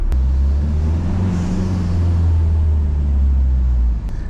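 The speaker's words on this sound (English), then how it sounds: "Diesel should not sound like that." A Peugeot RCZ HDi diesel engine with a homemade cold air intake drones and revs with a heavy low rumble, echoing in an underground car park, holding steady before easing off at the end.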